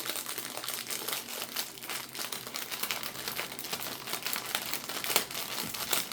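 Continuous crinkling of a plastic bag, loud and close, with sharp crackles and rustles rising and falling throughout, no talking.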